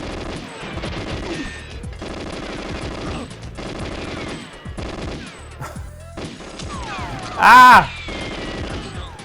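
Gunfire in the video game Goldeneye, with loud, rapid automatic bursts repeating in steady volleys and a short shout and a crash-like blast partway through.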